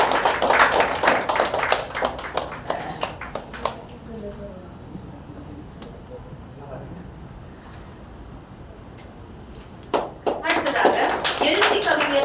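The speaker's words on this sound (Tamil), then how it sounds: "கரகோஷத்தோடு" An audience at a stage event claps to welcome a speaker, with bursts of applause at the start and again near the end and voices talking in the quieter stretch between.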